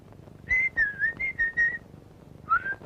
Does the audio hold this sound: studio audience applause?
no